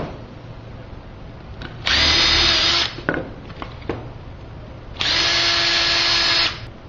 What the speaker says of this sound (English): flip them upside down because I want to countersink my screw